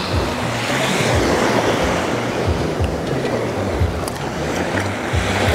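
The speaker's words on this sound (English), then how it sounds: "Can you hear the sound of the waves crashing?" Loud, continuous roar of ocean surf with waves rolling and crashing on Seven Mile Beach in Negril, Jamaica, washing steadily with no voices.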